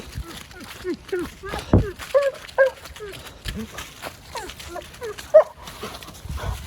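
The dog Arlo gives scattered whimpers and a few short barks close by, mixed with a person's speech and handling noise.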